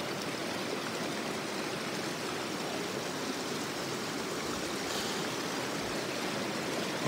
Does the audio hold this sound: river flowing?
yes